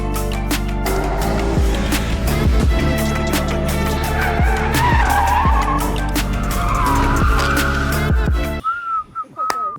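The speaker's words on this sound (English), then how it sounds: "big lock up from Charlie Lowe" A Caterham 270R race car at Oulton Park locks its brakes, its tyres squealing in a long loud skid over the engine's steady drone before the noise cuts out abruptly near the end.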